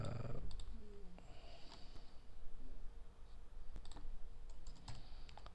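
Keystrokes on a computer keyboard, tapping in short irregular bursts during statistics work, close and fairly quiet, with no talking.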